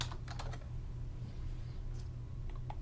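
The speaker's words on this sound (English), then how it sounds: "So I'll type in result." Someone types a short word on a computer keyboard, a few quick soft key clicks near the start and a couple more later, over a low steady room hum.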